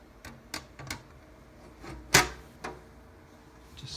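A Thermaltake Core V1 PC case's windowed top panel goes back on with a handful of light plastic clicks and taps, one sharper knock in the middle, all close and fairly quiet.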